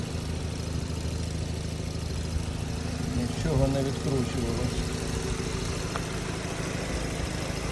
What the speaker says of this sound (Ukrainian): Двигун робить добре.